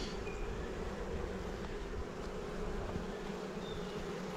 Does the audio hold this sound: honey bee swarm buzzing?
yes